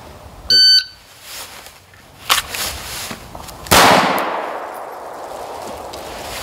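A concealed carry handgun drawn from a leggings holster fires a loud close shot, followed by a sharp ring that decays slowly. A brief electronic beep and a few clanks sit around it.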